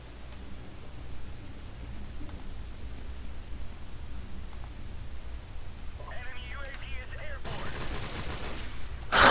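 Airstrike and gunfire in Call of Duty: Modern Warfare Remastered gameplay: a low, steady background hum gives way to loud, harsh bursts of explosions and shooting in the last few seconds.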